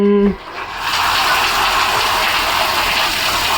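Shower head turned on, water spraying in a steady broadband rush that begins abruptly after a brief voice at the start and continues loud and close.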